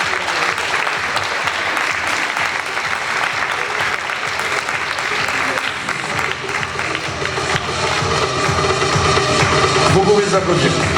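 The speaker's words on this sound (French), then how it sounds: "je vous demande d'applaudir la Reine des Fêtes 2018 et les deux dauphines" A festival crowd at the election evening for the Hagetmau Reine des Fêtes applauds the 2018 queen and her two runners-up, a loud, sustained wash of clapping from many hands with some crowd noise, swelling toward the end.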